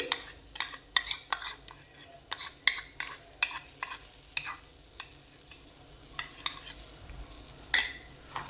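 A spoon stirs ground mango pulp into golden-roasted semolina for mango rava kesari, giving repeated scraping clicks and taps over a faint sizzle, close and steady with no talking.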